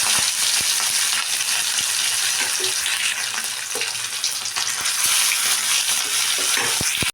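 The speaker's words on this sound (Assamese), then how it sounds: "এইফালে তেল গৰম হৈ গ'ল আৰু ইয়াতে মই এতিয়া মাছখিনি দি দিম" Rohu fish from a home pond frying in hot oil, a loud, dense, continuous sizzle and crackle close by with occasional small pops, heard alone without talk.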